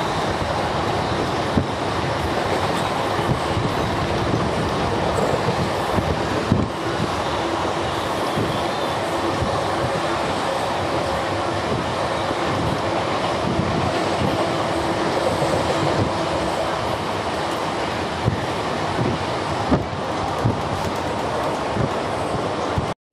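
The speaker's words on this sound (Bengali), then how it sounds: "আর এখন দেখা হবে আমাদের সাথে শিয়ালদা জম্মু তাওয়াই সাপ্তাহিক হামসাফার এক্সপ্রেস" A weekly Sealdah–Jammu Tawi Humsafar Express train running near Bardhaman, a steady loud rumble of wheels and wagons with rhythmic clickety-clack throughout, close by and alone without talk.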